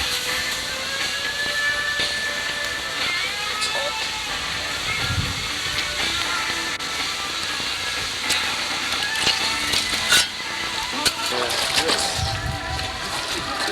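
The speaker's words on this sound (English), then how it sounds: "This is actually boiling, isn't it?" Water boils and hisses around a hot rock dropped in for stone soup, a steady close seething with scattered pops and sloshes running throughout, while faint voices murmur underneath.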